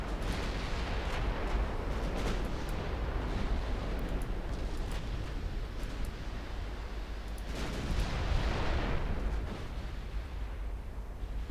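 Naval guns of 1960-era Italian warships firing in the Ultimate Admiral Dreadnoughts game, a continuous rumbling roar of distant heavy gunfire that swells louder near the end, with no voices.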